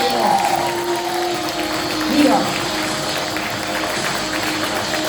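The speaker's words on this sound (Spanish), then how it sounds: "Dale fuerte ese aplauso a Dios." A church congregation applauds during a sermon as sustained crowd clapping and cheering run beneath a preacher's voice and a held musical tone, with a brief louder swell in the middle.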